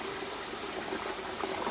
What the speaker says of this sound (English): filling it about halfway with nice hot water